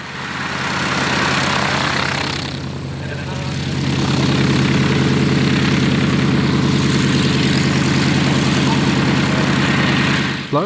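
A CAC-19 Boomerang WW2 fighter with a Pratt & Whitney 1830 Wasp radial engine roars loud and sustained at an air display, dipping briefly before swelling to a strong, steady drone.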